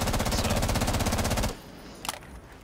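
Loud automatic gunfire in Rainbow Six Siege, a rapid, close burst of evenly spaced shots lasting about a second and a half, then stopping abruptly, followed by a faint clatter.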